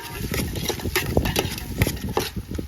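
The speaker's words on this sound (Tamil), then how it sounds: "கடலை எண்ணெய், பட்டை, இலை, சோம்பு, வெங்காயம் நல்லா வதக்கணும்" Onions with cinnamon, bay leaf and fennel being stirred in hot groundnut oil in a village cooking pan, a close run of scraping spoon strokes and clatter over a low sizzle, no talking.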